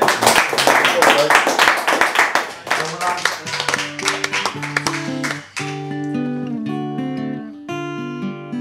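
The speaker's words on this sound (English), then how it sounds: "round of applause for that" Quiz audience applause, a dense burst of clapping in the first few seconds that fades out as a tonal musical sting takes over.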